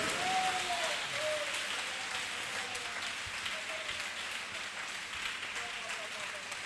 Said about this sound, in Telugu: నమ్మిన వారు గట్టిగా చప్పట్లు కొట్టి